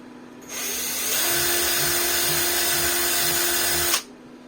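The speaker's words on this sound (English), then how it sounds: "Drill it like you love it, baby." A power drill with a 1/8 drill bit runs in one continuous, loud whine for about three seconds while modding a Sega Genesis Model 3 console, starting and stopping abruptly, with a faint rhythmic pulse underneath.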